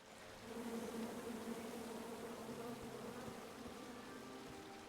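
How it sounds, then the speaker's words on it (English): A bee swarm buzzing in the King's Quest video game, a steady droning hum that holds evenly throughout, soft and continuous with no talk over it. "Come at me, bees!"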